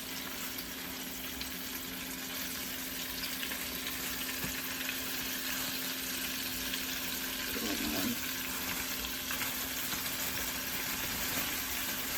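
Butterflied shrimp with tails on frying in a pan, a steady, even sizzle running throughout with a faint soft stir partway through and no talking.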